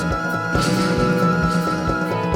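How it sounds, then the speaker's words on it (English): Harsh, gritty strummed strings strike in a loose rhythm, each stroke percussive and bright, ringing over a dense layered backdrop. "Like some harsh strings being strummed"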